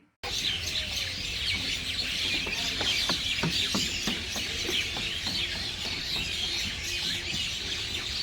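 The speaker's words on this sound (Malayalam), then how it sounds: "ഇത് ഇവിടുത്തെ കിളികളുടെ സൗണ്ട് തന്നെയാണ് കേട്ടോ." Many birds chirping and calling together at dusk on Al Noor Island, Sharjah, in a dense, continuous chorus, with occasional sharper chirps standing out over a steady hiss of background.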